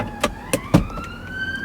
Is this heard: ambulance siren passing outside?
yes